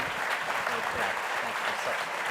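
Audience at the National Press Club applauding at a leadership talk, a steady continuous patter of many hands at moderate level, with some voices mixed in.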